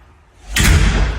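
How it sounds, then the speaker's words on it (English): A self-closing fire-resistant garage door in a home shuts with one loud, close thud after a brief rising slide, with no voices. "That door closes automatically."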